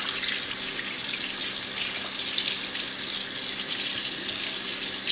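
Cold tap water runs steadily into a sink as a freshly caught golden trout is rinsed, giving a close, continuous splashing hiss with no voices.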